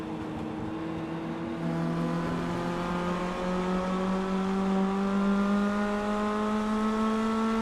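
Angry four-cylinder race car engine in iRacing's Mini Stock series at USA International Speedway, a steady buzzing drone slowly climbing in pitch as it accelerates, with other engines faintly layered underneath.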